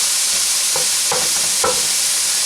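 Hamburger meat sears in a pan with a loud, constant sizzle, broken by a few soft scraping stirs from a mix-and-chop utensil.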